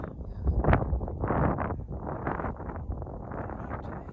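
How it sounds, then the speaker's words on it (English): Gusts of wind buffet the microphone in rough, surging waves, loud and close, with no talking. "A little windy. A little windy, a little cold."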